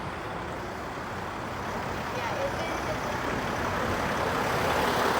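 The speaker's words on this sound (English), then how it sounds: "Say that as a truck comes out onto the sidewalk." A truck rumbles out onto a downtown Toronto sidewalk in the South Core neighbourhood, a steady, close engine drone over busy street traffic that builds slightly in loudness, with a voice talking over it.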